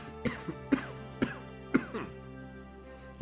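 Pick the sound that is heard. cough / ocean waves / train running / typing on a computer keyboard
cough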